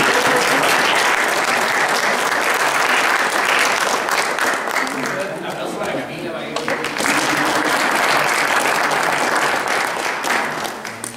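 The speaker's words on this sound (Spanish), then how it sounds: "Le damos un aplauso también." Audience applause at a student violin recital at a music school, loud sustained clapping from a crowd that dips briefly in the middle, then swells again, with a voice speaking over it.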